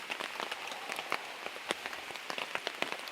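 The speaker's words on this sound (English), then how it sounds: "hopefully y'all are picking up the sound of that rain" Rain pattering on a blue camp awning, a dense run of close, crisp drops with scattered sharper taps, steady throughout and with no voices.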